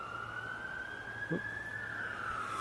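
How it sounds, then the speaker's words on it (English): An ambulance siren wails steadily at a distance, its tone rising slowly and then falling as it passes, over a constant background hum. "Oh, an ambulance there."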